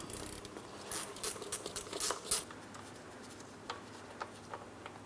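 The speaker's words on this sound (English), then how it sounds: "So I'm using a 17mm ratchet wrench for this." A 17mm ratchet wrench loosens the oil drain plug on a 2008-2016 Chrysler Town & Country 3.8L V6, giving quick bursts of small metallic clicks, close and fairly quiet, then sparser ticks.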